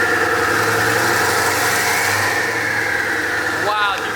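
Koenigsegg Agera supercar engine with turbos, a steady loud mechanical drone with a rising whistle near the end, heard at a car dealership with voices in the background.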